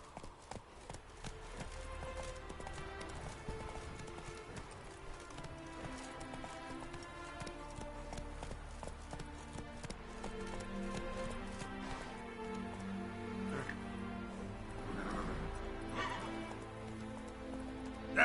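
Roach, the horse in the Witcher 3 video game, gallops with a steady run of hoof clip-clops beneath loud, continuous orchestral game music throughout.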